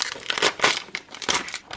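Plastic packaging on a plush toy crinkles in bursts as it is opened, several sharp rustling crackles close to the microphone with brief pauses between them.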